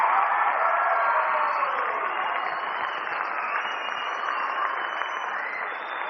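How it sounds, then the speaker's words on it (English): Sustained applause from a tournament audience, dense and steady throughout, filling the space without a break and easing off slightly toward the end. "Give them a big round of applause."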